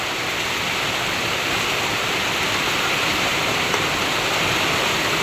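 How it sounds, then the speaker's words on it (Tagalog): Heavy rain pouring onto a house roof during rainy weather, a loud, dense, continuous hiss with no let-up and no talking. "Dito po ay nalakas po ang ulan."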